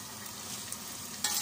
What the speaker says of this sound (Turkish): Tekrar karıştıralım.